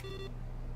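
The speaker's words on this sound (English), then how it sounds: "Oh, what's this? Oh, it just beeped at me" Electronic beep in The Stanley Parable video game, a single short steady tone that cuts off abruptly, quiet over a low hum.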